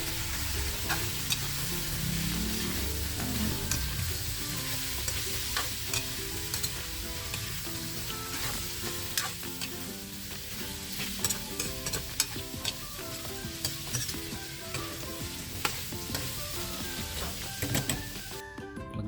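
Beef being stirred in a hot pot for balbacua, with a dense continuous sizzle and many rapid clicks and scrapes from the stirring utensil, close and steady throughout, no voices.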